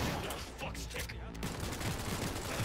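Rapid gunfire rattles through a Cyberpunk 2077 firefight on Xbox One, dense overlapping shots and bursts, loud and continuous, with players talking over it.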